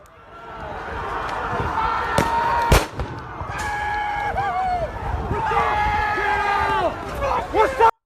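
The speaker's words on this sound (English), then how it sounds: "you see the fireworks going off?" Fireworks go off during a street protest in Minneapolis, with a few sharp bangs and cracks standing out above a constant din of crowd noise and voices.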